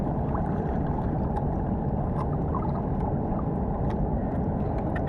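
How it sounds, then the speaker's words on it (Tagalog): Rough sea waves wash around a small fishing boat, making a loud, constant churning roar of water and wind with faint scattered knocks on top. "Maalon ngayon ng karagatan."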